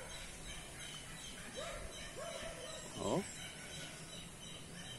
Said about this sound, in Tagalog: Huni po ng tikling.